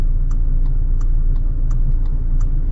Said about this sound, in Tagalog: Nagsisiksikan yung mga tricycle, oh.